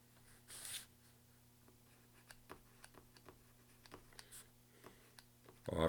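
Notes written by hand, with soft, faint scratchy pen strokes in short bursts and small pauses against a quiet room hum.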